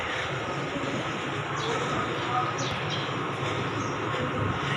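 A train rumbles steadily nearby, a broad continuous roar with faint high squeals and some bird calls in the background.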